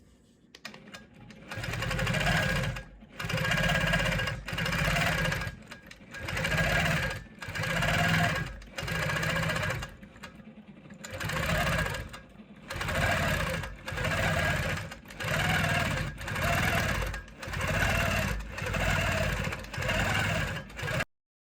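A sewing machine free-motion quilts a hexagon pattern, running in short, loud, rhythmic bursts of rapid stitching with brief pauses between them.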